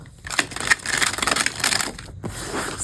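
A deck of tarot cards is shuffled by hand in quick riffling bursts of papery crackle, close and fairly quiet, with brief pauses between passes.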